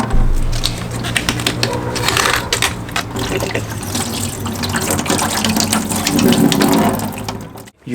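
Water sloshes and splashes inside a plastic motorcycle coolant reservoir tank as it is shaken to remove residue, with continuous liquid rushing and gurgling that stops abruptly at the end.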